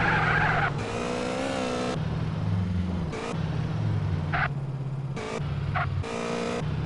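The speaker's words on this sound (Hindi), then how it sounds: "तो फटाफट गाड़ी को भगाते हुए मैं आता हूँ दूसरे वाले लोकेशन पे।" A car in GTA San Andreas speeds along, its engine revving loudly up and down in repeated bursts, with tire skids and squeals between them and no talk.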